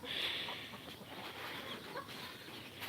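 Faint, low clucking from a chicken amid soft outdoor background noise, with no talking.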